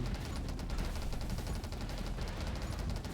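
Dual SMGs fire in a video game, set to a Spark elemental effect, as a dense and continuous rapid burst that stays loud and steady for about three seconds with no talk.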